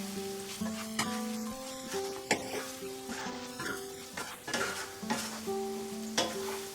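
Spices for mango pickle being stirred in a pan over medium heat, with soft sizzling under repeated scraping strokes of a spoon against the metal, steady and close; a faint tonal hum runs beneath.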